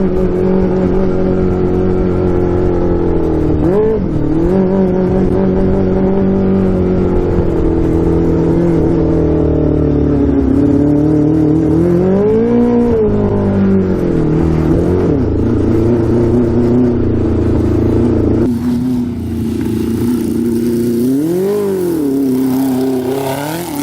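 A 650cc go-kart engine revving hard and loud as it climbs through the gears, pitch rising and dropping at each shift over a constant engine drone.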